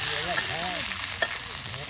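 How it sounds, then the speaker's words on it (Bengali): Ground spice paste frying with potatoes and cauliflower in a pan for a tilapia curry, a loud continuous sizzle with a brief stirring knock near the end. "এখন বাটা মশলাকে একদম মিক্সড করে ভাজা ভাজা করে নেওয়া হবে"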